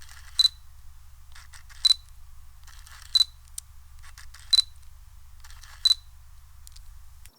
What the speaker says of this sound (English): I stuck a shotgun mic right up to the lens here to show you what it sounds like going from the closest focusing to the